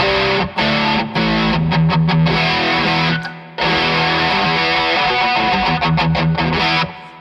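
An electric guitar runs through a Boss ME-5 multi-effects preset with the reverb turned off, giving heavily distorted, sustained chords broken by a few short gaps and one longer pause near the middle.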